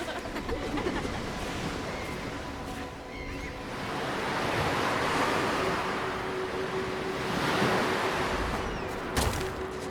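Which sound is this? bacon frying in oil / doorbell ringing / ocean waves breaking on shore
ocean waves breaking on shore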